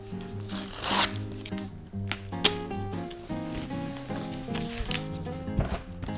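Packing tape rips and peels in zipper-like bursts as a taped cardboard package of art prints is opened, mixed with close rustling, crinkling and handling noises, no voices.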